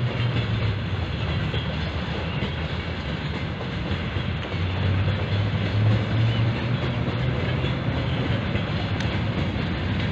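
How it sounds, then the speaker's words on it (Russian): Freight train rolling past with a dense, continuous rumble and clatter of wheels on rails, loud and steady throughout. "Сейчас как раз товарняк едет."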